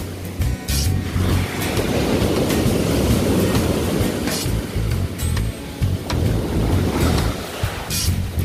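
Surf rolls and breaks steadily on Durdle Door beach in Dorset, a close, continuous wash of waves with brief surges and no voices.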